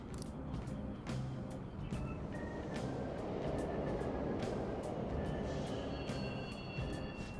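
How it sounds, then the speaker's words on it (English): Subway trains running underground, a continuous broad rumble and roar with repeated sharp clicks and squeaks from the wheels and cars, steady and fairly loud throughout with no speech. "The trains are totally running."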